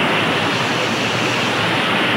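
Very heavy rain pours down at Neelkanth temple near Rishikesh, a dense, steady hiss and roar that fills the whole moment without a break.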